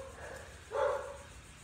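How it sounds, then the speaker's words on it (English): One short dog bark sounds from a distance, faint over a steady background hum, with no other voices. "Dogs are angry."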